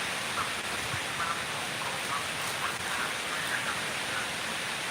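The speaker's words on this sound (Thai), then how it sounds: "วันนี้บ้านเราฝนตกนะครับคุณดูมา" Rain falling outside a house, a steady dense hiss that holds evenly throughout, moderately loud with no talk.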